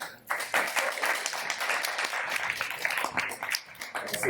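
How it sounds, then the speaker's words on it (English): An audience at a Kyoto tech-community interview event applauds, a dense, sustained burst of many hands clapping close by that holds steady for several seconds with no speech over it. "So can we get a round of applause for Joi?"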